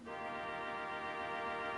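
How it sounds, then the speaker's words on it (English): A single sustained theatre organ violin stop tone, from a string rank, thin and bright like bowed strings, holds evenly for a couple of seconds with nothing else around it. "We then have a violin, which is like a string rank"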